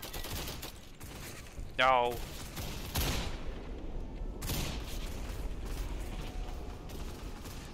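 Machine gun fire in the Roblox war game Centaura, with rapid mechanical bursts and clattering amid a busy battle, a player shouting once and talking over the din.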